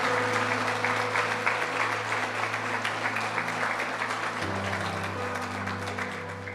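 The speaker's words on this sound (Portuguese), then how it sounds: "Uma salva de palmas mais uma vez a toda essa gente." Steady applause from an audience at a church gathering continues throughout, a broad wash of clapping at moderate distance with a low hum underneath that shifts partway through.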